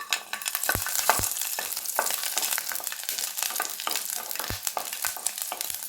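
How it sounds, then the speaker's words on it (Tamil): Garlic fries to golden in a pan of hot oil for a thuthuvalai chutney, giving a continuous close crackling sizzle. Occasional sharp utensil knocks cut through it. "பூண்டு ஒரு பொன்னிறமாக வறுபடணும்."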